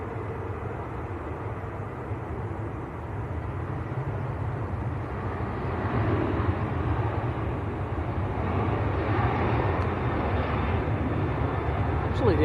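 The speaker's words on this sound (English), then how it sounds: "There's a Ryanair just starting the roll" A Ryanair airliner starts its takeoff roll at Manchester Airport, and its distant engines give a broad, steady roar that swells gradually. Someone talks nearby over the sound.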